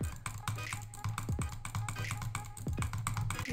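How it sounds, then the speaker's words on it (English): Butterfly clicking on a broken Model I gaming mouse produces dense, fast, close clicks in uneven bursts, resembling rapid keyboard typing. "And butterfly clicking on my broken Model I."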